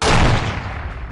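Single loud, close gunshot burst from a handgun in the video game The Operative: No One Lives Forever, a sharp broadband crack fading into a short rumbling tail, with no talking.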